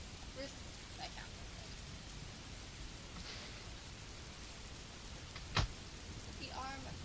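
Recorded rain plays quietly as a steady, hissing wash of falling drops throughout, with a brief sharp crackle near the end and faint bits of speech over it.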